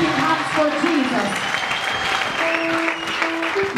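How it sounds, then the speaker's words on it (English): A church congregation claps hands together in a steady wash of applause, with voices and a sustained musical tone mixed in. "clap hands for Jesus"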